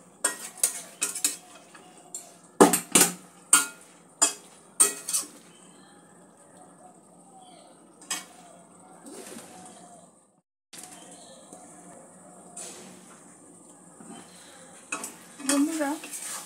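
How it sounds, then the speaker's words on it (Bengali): Papaya with poppy seeds and crisp lentil dumplings simmering in a pan, with a burst of sharp spoon-and-pan scraping and clinks early on, then a quiet low bubbling with occasional stirring knocks. "দু এক মিনিট একটু ফুটিয়ে নেব।"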